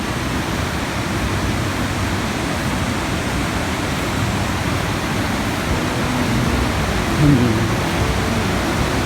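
A river flows beside the Seven Bidadari waterfall area in Aceh, a steady, close, continuous rush of water with no breaks across the whole stretch.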